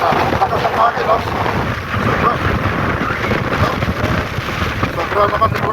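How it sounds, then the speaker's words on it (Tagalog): Steady strong wind roars across the microphone outdoors near a poultry farm, a dense, constant rushing buffet, loud and unbroken throughout with no clear speech. "Lakas ang hangin,"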